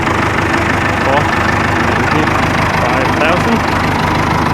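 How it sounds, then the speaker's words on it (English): A small Ford 5000 tractor with a front loader idles outdoors, its steady low mechanical rumble and light knocking continuous and close throughout. "up here we have the Ford 5000, really small tractor"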